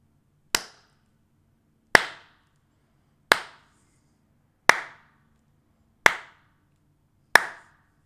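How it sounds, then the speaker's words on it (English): Six single hand claps, spaced about a second and a half apart, each sharp and loud with a short ringing tail in an untreated room with no acoustic panels. "So now I'm just going to do some brief clapping so you can kind of hear how it sounds in here."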